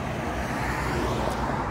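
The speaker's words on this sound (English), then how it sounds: "there are a lot of cars driving around tonight" A steady wash of night traffic noise as a car drives past on the street, a continuous low rumble without pause.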